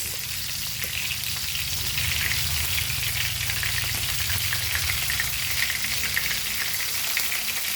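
Rava-coated Goan prawns frying in a pan, giving a loud, steady close sizzle with light crackling throughout and no talking.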